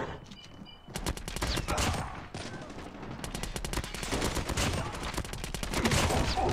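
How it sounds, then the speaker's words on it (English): Call of Duty Mobile gunfire crackles in rapid automatic bursts and fusillades, loud and dense, with a player's voice talking over the shooting. "who's shooting at me?"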